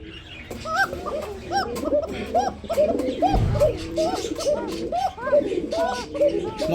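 Black Danish pigeons at a market coo steadily in a dense, overlapping chorus of low throaty calls, close and continuous, with a dog whimpering faintly and people talking in the background.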